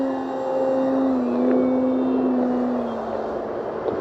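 An E-flite Extra 300 radio-controlled aerobatic plane flies overhead, its steady whining electric motor holding a clear tone that dips slightly in pitch as it passes at moderate distance.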